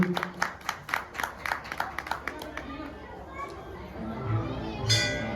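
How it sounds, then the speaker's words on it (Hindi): An audience at a ceremony honouring a guest claps in a quick rhythmic burst of sharp hand claps that fades after a few seconds, with voices talking underneath and continuing afterwards. "तालियां बजाओ एक बार सभी।"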